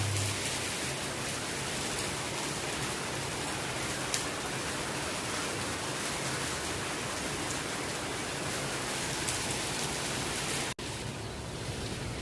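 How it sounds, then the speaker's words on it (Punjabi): Heavy rain falling steadily, a dense, uniform roar of pattering drops heard close for the whole stretch, with one brief cut near the end, with no voices. "ਮੀਂਹ ਇੰਨਾ ਤੇਜ਼ ਆ ਸਾਡੇ ਵੀ ਹਜੇ ਵੀ ਪਈ ਜਾਂਦਾ"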